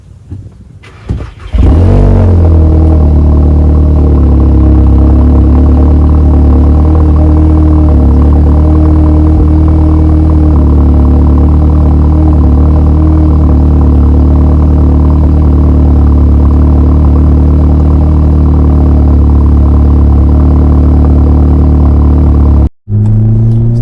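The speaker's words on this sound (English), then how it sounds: "Car's warming up here. This thing does sound pretty good." Volkswagen Mk7 Golf R engine starts and settles into a steady, loud warm-up idle with a deep low rumble that holds unbroken for about twenty seconds, then cuts off abruptly near the end.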